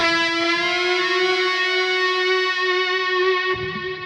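A single sustained lead electric guitar note with effects, bent up in pitch, ringing loud and steady with a rich harmonic tone before a slight pick noise near the end.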